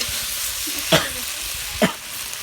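Chicken meat for a spiced kosha curry stirred and fried in a pan, a steady close sizzle with two brief scraping strokes of the spoon, no talking.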